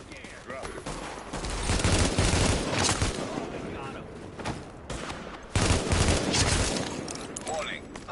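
Sustained gunfire from a street firefight in the video game The Division, with loud bursts of automatic fire and heavy volleys that surge and fade over several seconds, mixed with background voices and game radio chatter.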